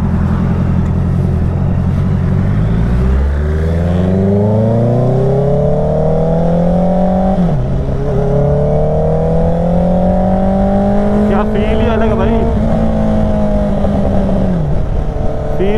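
A Honda CBR 650R motorcycle engine revs loud and close while riding, pitch climbing steadily with brief dips at gear changes and rising again, continuous throughout with no talk.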